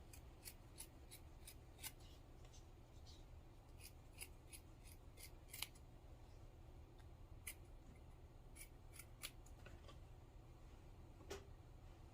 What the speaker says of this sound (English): So now I'm going to cut another piece because that's not wide enough.